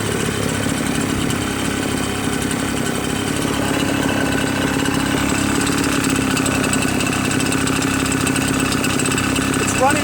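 A Redmax EBZ8050 gas backpack leaf blower engine runs continuously at a steady, buzzing two-stroke drone, close and loud throughout, with a voice talking over it.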